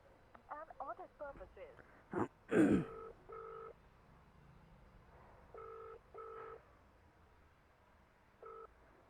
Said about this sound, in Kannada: ಕಸ್ಟಮರಿಗೆ ಫೋನ್ ಮಾಡೋಣ ಬನ್ನಿ